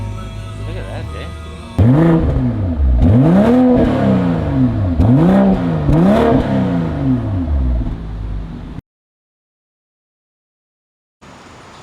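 A 2024 BMW M340 fitted with M Performance exhaust tips revs loudly and close by, with four or five rising and falling engine swells back to back, then stops abruptly into silence.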